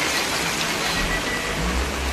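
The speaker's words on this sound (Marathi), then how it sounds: "पण पाऊस एवढा मरणाचा आहे काय सांगू" Heavy rain at a railway station pours as a steady, dense roar, loud and close, with a low rumble underneath throughout.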